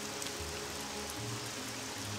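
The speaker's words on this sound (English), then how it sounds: "it is raining" Steady, quiet rainfall in the video game Morrowind makes a soft, continuous hiss with no distinct drops or voices.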